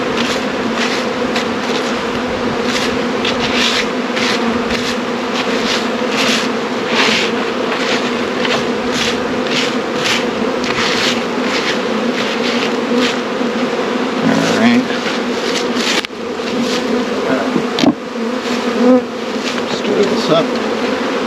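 Dense, continuous buzzing of many live honeybees swarming close around an opened hive during an early spring split, loud and steady, with a few soft handling knocks and faint voices underneath.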